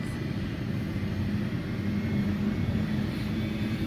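Helicopter on a sightseeing tour over canyons near Juneau, Alaska, heading to the Mendenhall Glacier: a steady, loud rotor-and-engine drone holding constant throughout, close and continuous with no talk over it.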